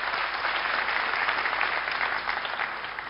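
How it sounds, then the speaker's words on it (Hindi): Studio audience applause welcoming a guest onto a television talk show, a dense, steady wash of clapping that holds evenly throughout and eases slightly at the end. "बड़े जोर से तालियां देकर स्वागत कीजिए।"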